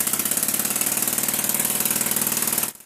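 An air-powered diaphragm motor runs on a test bench, fed from a 2-litre bottle pressurized to 4.1 bar, making a loud, close, rapid, even pulsing chatter that stops abruptly near the end.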